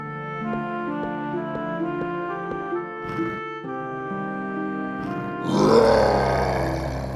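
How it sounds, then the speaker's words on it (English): A beast's deep roar bursts out inside a castle hall, loud and rough, swelling near the end over a sustained musical background with no talking. "a roar was heard again and the beast came into the hall"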